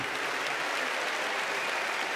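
Steady, dense applause from a school audience at a science outreach event in Bratislava fills the whole stretch, loud and even with no talk over it.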